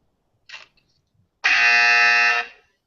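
A quiz contestant's buzzer sounds as one loud, steady electronic tone lasting about a second, following a brief faint blip, with no talk over it.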